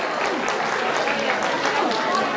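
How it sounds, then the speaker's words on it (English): An audience at a juvenile Latin ballroom dance competition gives steady, dense applause for the dancers, with a few cheers rising through it. "Give them a round of applause."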